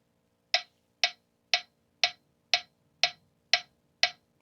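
A metronome app clicks at 60 BPM in eighth notes: eight crisp, evenly spaced clicks about half a second apart, close and clear against a quiet background.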